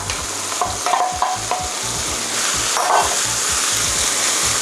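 Udon noodles with crab sticks stir-fried in a pan, a steady close sizzle broken by repeated irregular scrapes of a spatula against the pan, with no voices.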